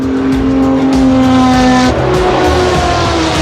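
A Porsche 917K, the Gulf-liveried Le Mans racing car, roars loudly and close with a sustained high engine note that drops in pitch partway through as it changes gear or passes, alone without voices.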